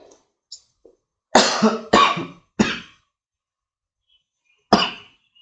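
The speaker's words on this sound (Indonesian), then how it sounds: "Maaf, saya batuk." Four sharp coughs, three in quick succession followed by a single one after a pause, close and loud with silence between them.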